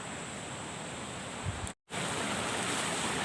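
River water flowing in a constant close hiss and rush, with a brief dropout of silence near the middle before the steady flow resumes.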